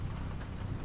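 Rain falling on the Indy circuit in the racing game Assetto Corsa EVO, a steady broadband wash of downpour with a low rumble underneath, continuous and fairly quiet.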